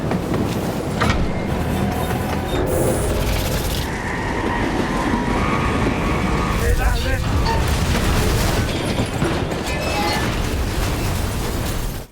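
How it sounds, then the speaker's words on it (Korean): Loud, continuous crash and rumble as a train smashes through a barricade of vehicles in an Argentine sci-fi film, heavy impact noise sustained for about twelve seconds with shouting voices mixed in. "기차는 무사히 차벽을 통과합니다."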